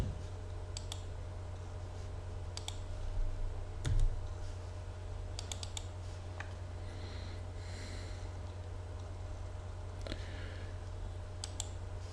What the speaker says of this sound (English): I'm going to do the typing again